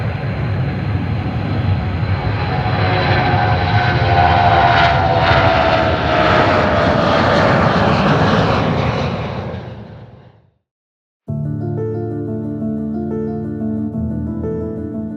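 A NASA research aircraft takes off with a loud, sustained roar of engines that swells through the run, then cuts off abruptly near the end, giving way to a different steady tonal sound.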